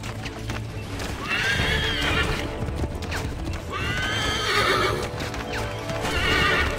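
A horse in Assassin's Creed 3 neighs loudly several times in rising whinnies while hooves clip-clop steadily underneath, close and continuous.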